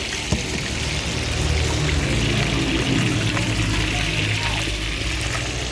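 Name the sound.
pouring a cup of broth into sardine stir-fry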